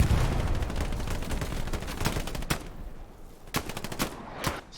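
Dense, loud gunfire from an online match of the shooter Hell Let Loose: rapid automatic bursts run throughout, with heavier sharp blasts that suit grenade explosions near the middle and end.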